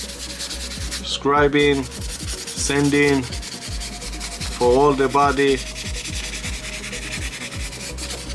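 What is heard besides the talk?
sanding sponge rubbing model car body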